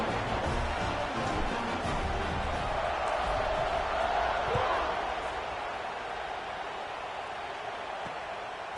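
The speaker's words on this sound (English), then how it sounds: "this crowd is buzzing after that last score" A college football stadium crowd buzzes after a score ahead of a kickoff, a steady broad roar of many voices with a brief swell, carrying under an announcer's talk.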